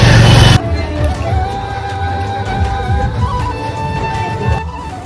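Crowd hubbub at a Durga Puja pandal in Contai late at night, a dense babble of many voices with traffic noise and occasional shouts, steady and fairly loud after a brief burst of louder noise at the start.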